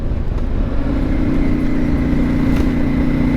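CF Moto 450MT motorcycle engine running steadily at a low, even rumble, close up and loud, with no speech.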